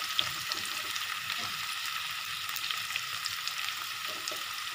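Chopped green chilies fry with lightly browned onion in a pan for an eggplant curry, a soft, even sizzle with faint scraping and stirring clicks throughout, close by and without speech.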